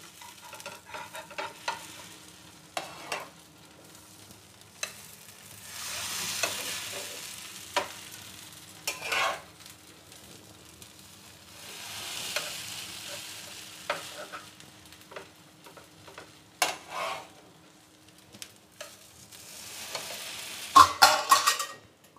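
Cheese-topped bread warms in a pan over a low gas flame. A faint, quiet sizzle rises and fades under intermittent spatula scrapes and taps, ending with a few louder clatters.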